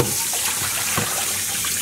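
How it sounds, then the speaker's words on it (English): Water running from a tap while a hank of dyed yarn is rinsed, a steady close splashing rush with small bursts of spatter throughout. "I can hold on to it without getting it tangled as I'm rinsing it off"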